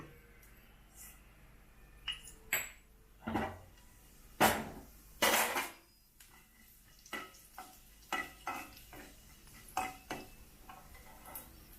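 Cumin and mustard seeds drop into hot oil in a pan for Karnataka red amaranth palya, giving scattered crackles, pops and a few louder sizzling bursts against a quiet kitchen background.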